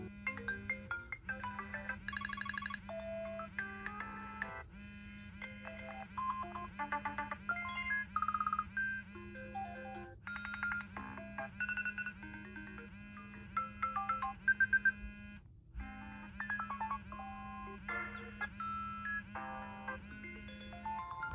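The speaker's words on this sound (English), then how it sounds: "iOS 7 also introduced a bunch of new ringtones and sounds" A run of iOS 7 ringtones plays from an iPhone 5S, a string of bright electronic melodic tunes with chiming notes over a steady repeating low tone, each short tune starting after a brief gap, loud and close.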